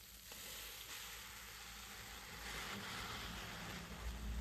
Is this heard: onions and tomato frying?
yes